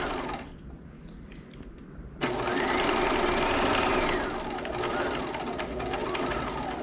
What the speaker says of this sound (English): Now you can see we're stitching on the lace itself.